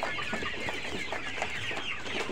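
Farm chickens, colored bird poultry, cluck and chatter continuously close by, a dense overlapping flock sound with no talking.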